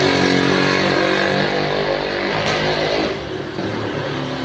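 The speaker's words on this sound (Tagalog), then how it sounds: "Bagong motor ni Roque." A new motorcycle's engine revs loudly and steadily nearby, a dense continuous roar that drops slightly in level toward the end.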